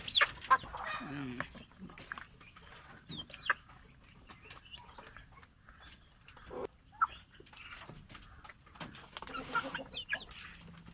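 Naked Neck hens and chicks on a small farm cluck and peep in scattered, fairly faint bursts against a quiet background.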